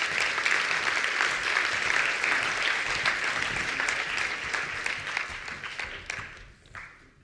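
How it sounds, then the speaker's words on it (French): Audience applause at the launch event of a university entrepreneurship and innovation hub, a dense, steady clapping from a full room that holds for several seconds and then fades out toward the end. "On les applaudit."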